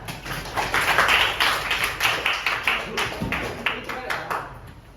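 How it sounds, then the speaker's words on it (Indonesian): Classroom clapping during a lesson, a group of students clapping together in a dense, uneven burst that stays steady and then thins slightly, with a voice heard faintly under it. "Tepuk tangan."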